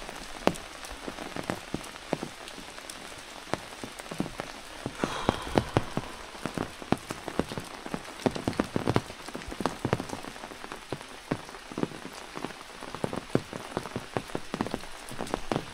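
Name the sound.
rain falling while walking outdoors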